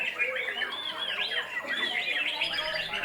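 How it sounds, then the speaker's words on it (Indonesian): Thousands of songbirds at a bird singing contest in Banjarbaru, South Kalimantan, chirping and squawking in a dense, continuous, overlapping chorus that fills the whole stretch. "Suara riuh ribuan burung berkicau menyelimuti atmosfer perlombaan di Kota Banjarbaru pada siang hari."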